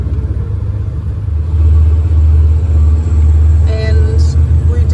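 A farm vehicle towing a combine header on a trailer drives down to the paddock, a loud steady low engine rumble that swells after the first second, with faint voices over it.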